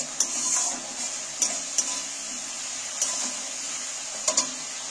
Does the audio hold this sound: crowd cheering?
no